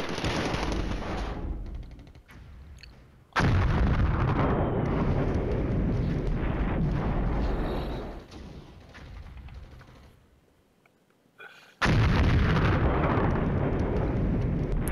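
Artillery fire in the Flashpoint Campaigns: Red Storm strategy game, with loud sustained booming blasts and rumbling that drop away briefly before another heavy barrage bursts in.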